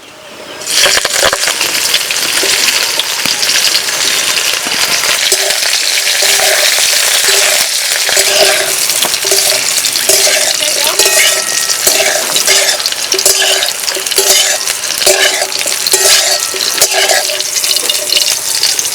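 Cauliflower florets frying in mustard oil in a kadai, a loud continuous sizzle and crackle with scraping stirring sounds throughout.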